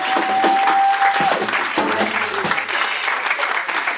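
An audience claps together in a church, a steady broadband wash of applause that fills the whole stretch, with a sustained tone and some low sounds briefly audible beneath it.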